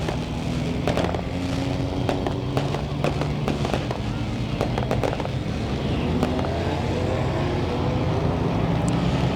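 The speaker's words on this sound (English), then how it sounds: "Lone Wolf fireworks lighting up the sky for our main event here tonight." Fireworks crackle and pop over a racetrack during a Friday night main event, with sharp scattered bursts across a steady rumble of engines and crowd noise.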